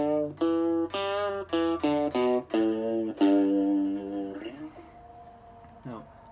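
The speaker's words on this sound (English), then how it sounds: "a major pentatonic scale," A guitar plays a major pentatonic scale, a run of about ten distinct plucked notes, clear and close, followed by a few softer sustained notes.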